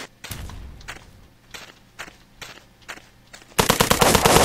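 Gunfire in the online shooter game Blockpost: single shots at a steady rhythm about every half second, then a loud rapid burst of automatic fire at the end, close and alone.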